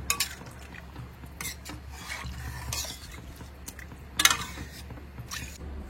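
A spoon stirs a large pot of chicken seeraga samba biryani mixture with rice and water, giving soft scraping and sloshing strokes with a few sharper clinks against the pot over a steady low background hum.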